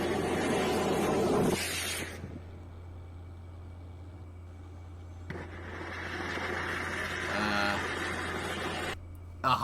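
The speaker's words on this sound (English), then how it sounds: "A hybrid engine first firing?" A hybrid rocket engine test firing, heard as a roar that starts, cuts out for a few seconds, then returns with a rough sputtering hiss before stopping. A distant, low-quality recording, with voices faintly in the background.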